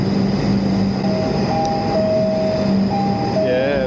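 Inside a Shinkansen bullet train in Japan, a steady rumbling ride noise continues with faint tonal whines rising over it, and a voice speaks over the carriage sound.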